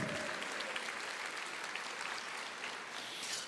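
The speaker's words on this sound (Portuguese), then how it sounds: "Aplauda ao Senhor" A church congregation applauds during a sermon, a dense, steady wash of many hands clapping that fills the space without pause for several seconds, with no clear speech over it.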